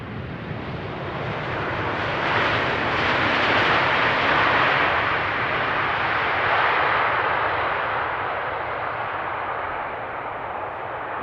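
A jet airliner landing at Amsterdam Schiphol Airport, a loud broad roar that swells and holds for several seconds before easing off slightly, with no voices over it.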